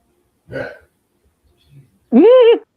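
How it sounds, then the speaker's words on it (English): A short throaty sound, then a loud, drawn-out voiced burp with a rising and falling pitch, close and clear against near silence. "However much you burp at me."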